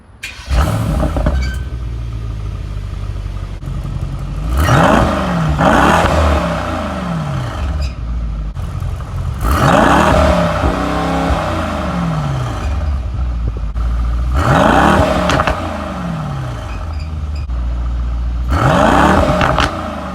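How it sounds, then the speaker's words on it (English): A 2019 Mercedes-AMG E63S Wagon exhaust, loud and close, with a series of sharp revs rising and falling over a deep, steady idle rumble. No voices are heard. "I'll give you a listen to it starting up and idling and going through the various dynamic select modes."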